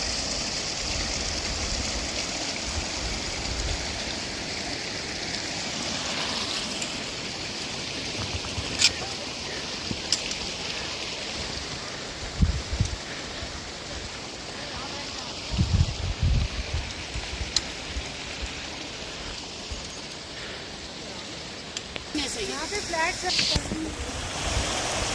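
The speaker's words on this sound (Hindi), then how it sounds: "फिर से एक झरना।" Meltwater waterfall from a glacier on a Himalayan trek to Satopanth, a constant broadband rush of falling water with wind buffeting the microphone and occasional thumps, steady throughout.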